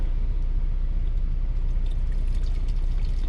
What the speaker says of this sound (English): I'm gonna get some water to put in the bottles